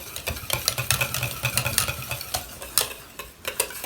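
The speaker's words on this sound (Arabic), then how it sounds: "هنا غندير الزبده اللي خليت في الاخر، وغادي نذوبها ونحركها مزيان" Brisk stirring of melting butter in a pan for tiramisu, a steady run of quick scraping and tapping strokes, close and fairly loud with no talk.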